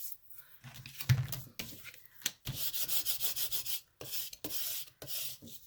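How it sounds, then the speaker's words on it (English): Paper glued onto a journal spine is burnished by hand in close, quiet rubbing strokes, short bursts with pauses, then a rhythmic run of repeated scrapes. "burnish it just a little bit,"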